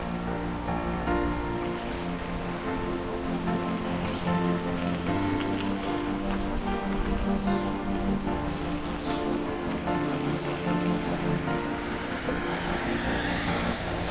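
Continuous rushing water of Lynch Creek in Harlan County, Kentucky, flows steadily, broad and fairly loud, with a brief high chirp early on and no talking.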